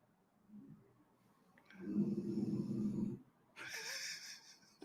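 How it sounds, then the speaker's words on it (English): A dog snores in a quiet room, one deep rumbling snore followed by a wheezy, snorting exhale, close and fairly loud against near silence. "that was a good snore."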